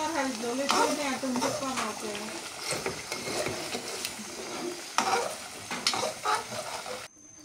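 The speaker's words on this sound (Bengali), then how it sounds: "বোয়াল মাছ কি জাল দিয়ে ঝোল কমাইতেছো" Boal fish curry simmering and being stirred in a pan, with a continuous bubbling sizzle and scraping strokes, while voices talk over it nearby.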